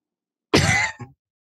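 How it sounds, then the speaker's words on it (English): Someone gives a sharp double cough up close, a strong first burst and then a shorter, weaker second one, surrounded by silence. "It was a double cough."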